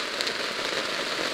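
Steady heavy rain drumming on a surface, a dense hiss of drops with no pauses, close and fairly loud.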